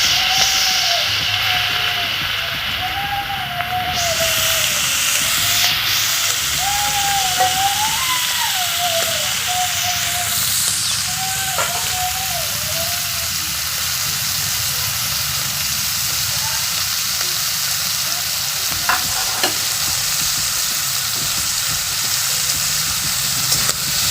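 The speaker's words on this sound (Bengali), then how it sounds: "আমার তেলটা গরম হয়ে আসছে, আমি এখন মাছ ছাড়িয়ে দেবো" Shrimp frying in hot oil for an aloo chingri dish, a steady bright sizzle running under a voice speaking throughout, with occasional louder crackles and utensil sounds.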